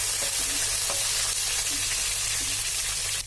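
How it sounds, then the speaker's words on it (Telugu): Onion and green chilli pieces frying in hot oil in a pan for an aloo masala curry, a dense continuous crackling sizzle, close and steady, with a few faint stirring taps and no voices. "ఆనియన్ ముక్కలు ఇంకా పచ్చిమిర్చి ముక్కలు అనేది వేసుకొని మనం కొంచెం వేయించుకోవాలి"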